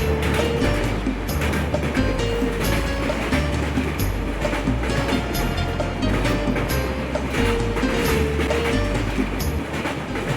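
A train rumbling steadily at a station as passengers board, with continuous loud low rolling noise and faint clatter throughout, no clear talk.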